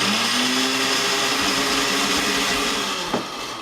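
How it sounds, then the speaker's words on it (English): A blender whirs loudly and steadily as it blends raspberries, banana and ground flaxseed, a dense continuous motor roar with a slight dip and clunk near the end. "And then turn on your blender and go."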